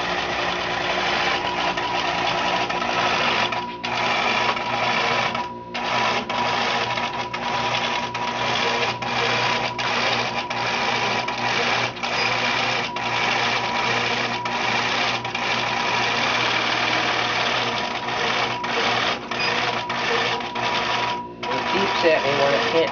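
A longarm quilting machine stitches a quilt in a home studio with a fast, steady mechanical whir that runs loud and close almost without a break, pausing briefly a few times.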